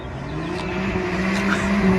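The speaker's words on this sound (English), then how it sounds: "Yeah, I can hear those burbles." Car with a Stage 1 BOOTMOD3 tune doing a flyby, a steady rumbling exhaust drone with crackling burbles building slightly louder over two seconds, heard from nearby outdoors.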